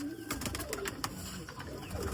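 Pigeons of a Lahore breed coo in a loft, low throaty coos close by with a few sharp clicks and rustles scattered through.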